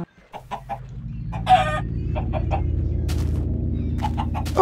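Chickens clucking in the Minecraft video game at nighttime, with short repeated clucks over steady background game music.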